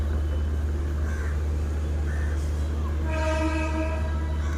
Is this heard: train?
yes